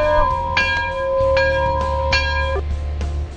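Bright bell strikes ring out several times in an irregular pattern, each tone sustaining and overlapping over a steady low rumble.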